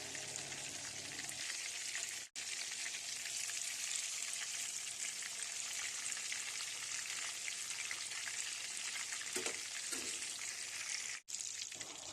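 Chapli kababs sizzle and fry steadily in a pan of hot oil, a dense continuous crackle with brief dips near the start and end, heard alone without talk.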